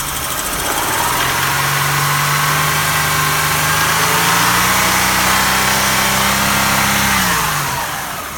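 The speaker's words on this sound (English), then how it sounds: "I've never heard this engine run. It is a V6." A V6 engine runs close and loud with a steady droning hum, slightly rough and chuggy, its pitch swelling a little midway before settling, with no voices.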